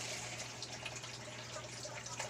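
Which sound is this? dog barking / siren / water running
water running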